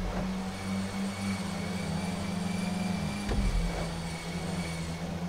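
A hot pink car in GTA 5 races flat out down a straight, its engine giving a steady, loud droning roar with a low hum throughout and a brief heavier surge midway.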